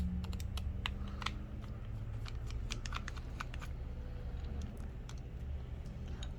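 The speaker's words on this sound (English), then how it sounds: "I will open some screws here to have access to the battery" Small screws are being unscrewed on a Samsung Galaxy Note 20 Ultra, with faint rapid ticking and clicking of a tiny driver over a low steady background hum.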